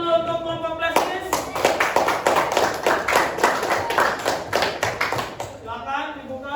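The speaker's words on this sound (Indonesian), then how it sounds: "berikan tepuk tangan dulu untuk kelompok plastis" A classroom of students claps for a student group: a sustained burst of dense hand clapping after a teacher's brief speech, loud and close, tapering off as voices return.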